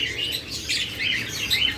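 Pet lovebirds or cockatiels kept for sale chirp and tweet in quick, overlapping bright calls, moderately close, with no one speaking.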